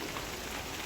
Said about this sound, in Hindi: देखिए बारिश करने का नाम नहीं ले रहा